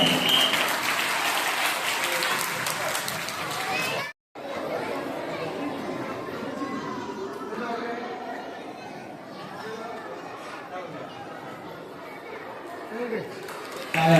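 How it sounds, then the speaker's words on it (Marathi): Audience applause at a school annual prize-giving ceremony in Angaon, a steady mass of hand clapping mixed with children's chatter, briefly cut off and then resuming at a similar level throughout. "सगळ्यांनी जोरदार टाळ्या"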